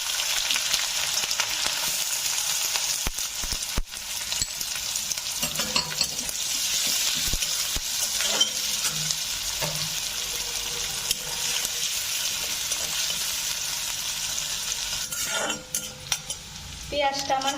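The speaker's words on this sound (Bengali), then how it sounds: "শুকনো লঙ্কাগুলো আমার ভাজা হয়ে গেছে, এখন আমি পেঁয়াজ কুচিটা দিয়ে দিলাম" Chopped onion hits hot oil after dried red chillies while a potato bhaji is being cooked, producing a steady loud sizzle with occasional stirring scrapes and utensil clinks.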